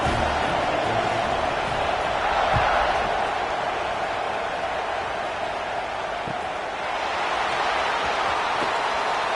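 A stadium crowd roars in a college football video game as Michigan's maize and blue winged helmets take the field, a dense, continuous wash of cheering that holds steady throughout.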